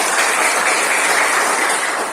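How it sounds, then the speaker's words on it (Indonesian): A classroom of students claps together after a girl finishes reading a folk tale, a dense, steady wash of applause held loud and close for a couple of seconds with no talking. "Tepuk tangan untuk Nona Eventa"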